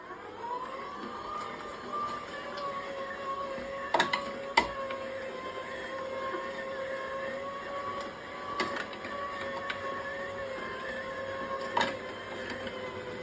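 An electric juicer runs on its apple program with a steady, close mechanical whir and a faint high whine, broken by a few brief clicks or knocks as apples go through, with no talking.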